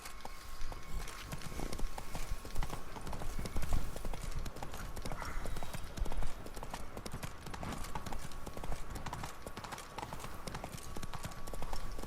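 Hooves clip-clop fast and steady as a horse gallops in The Witcher 3: Blood and Wine, a continuous rhythmic drumming under a soft game soundscape.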